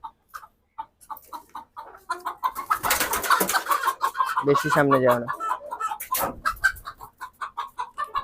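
Asil chickens, about five of them, cluck and squawk close by in a yard in a busy, overlapping run, with a louder burst in the middle, while someone speaks briefly over them.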